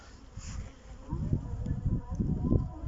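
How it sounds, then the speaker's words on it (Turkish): Honey bees buzz in a low, steady drone close by at an open hive, swelling and fading as they move around. "arıları ezmemeye dikkat ediyoruz"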